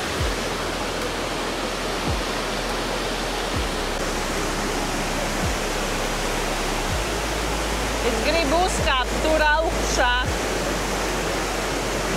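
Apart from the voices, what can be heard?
waterfall in Ubud, Bali, with lots of flowing water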